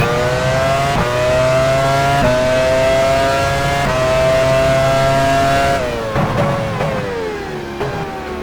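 A Formula 1 car in the racing game F1 Challenge 99-02, at the 2001 US Grand Prix at Indianapolis, holds a loud, steady high-revving engine whine through several upshifts, then downshifts sharply in a falling series as it slows toward the pits.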